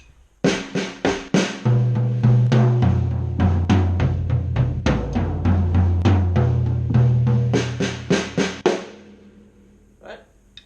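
Drum kit played with rudiment sticking combinations in quick rhythmic bursts of sharp hits over ringing drum tones, loud and close, with the hits thinning out at the end.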